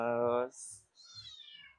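A cat gives one clear, harmonic meow, followed by a few short, softer chirps and breathy sounds at close range.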